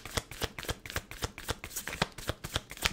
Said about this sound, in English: So even like when I'm shuffling the cards,